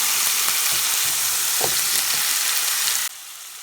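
Onion paste hitting a hot pan for a restaurant-style paneer korma, a loud, dense, continuous sizzle up close with a faint stir midway, dropping sharply quieter near the end.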